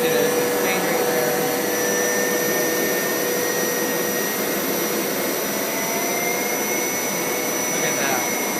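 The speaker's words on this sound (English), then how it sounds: "I really love how it has the rotating brushes that scrub all sides of the carpet" A Hoover Power Scrub Elite carpet cleaner with rotating brushes scrubs a pet stain, producing a loud, continuous motor drone and whine that stays steady throughout.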